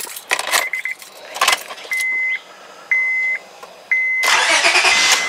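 A car fitted with a swapped Honda starter: keys jangle, chimes beep in repeated short bursts, then the engine cranks and catches with an energetic start and keeps running loudly close by, no voices.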